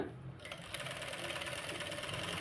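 A sewing machine runs a steady, close whirr of rapid stitching while sewing a blouse sleeve, starting up after a brief pause and continuing evenly.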